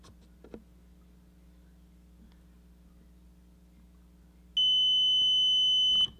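A continuity tester gives a single steady electronic beep lasting about a second and a half as it checks a soldered connection on an AirTag. Quiet background hum comes before it.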